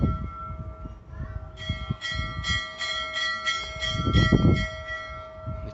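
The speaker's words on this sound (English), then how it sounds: "The kids are ringing the bell." Children ring a ship's bell aboard a historic vessel at a dockyard, sounding a rapid run of repeated clangs over a low background rumble and shuffling, with the bell tones ringing on between strikes.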